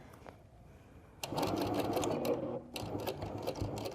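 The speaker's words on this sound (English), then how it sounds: "we're gonna take our sewing machine, and we're actually gonna sew from the 2-inch mark that we just made" A sewing machine stitches fabric for an Easter basket in two close, rapid bursts of a second or so each, separated by a brief pause, over a quiet room.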